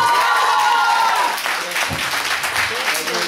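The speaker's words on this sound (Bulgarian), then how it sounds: "айде аплодисменти за него" Studio audience at a Bulgarian TV talent show breaks into loud applause, dense clapping that fades somewhat after the first second and continues under a voice and stage sounds.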